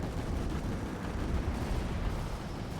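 Anti-aircraft turret fire in an online shooter: a dense, continuous wall of distant booming and rumbling gunfire with no clear gaps, steady and moderately loud throughout.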